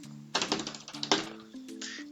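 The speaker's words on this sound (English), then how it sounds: "It's the F11 function key." A single function key pressed on a computer keyboard while working in a spreadsheet, giving a few close, light clicks and taps with short pauses between them.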